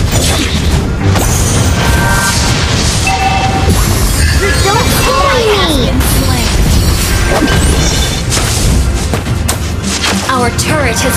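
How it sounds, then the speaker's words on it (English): Mobile Legends: Bang Bang gameplay, where a turret is destroyed with a loud crash and booms amid dense, continuous battle effects, whooshes and impacts. "turret has been destroyed"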